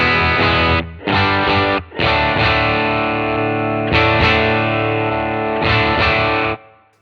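Clean electric guitar chords ring out through a Fender Deluxe Reverb amp, strummed in several bursts with short pauses and sustained decay, loud and close.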